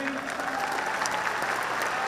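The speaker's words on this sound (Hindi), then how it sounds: "एक बार उनके लिए तालियां बनती हैं प्लीज" An audience at a Forever Living success day event in Delhi claps steadily, a dense, even wash of applause throughout the short moment.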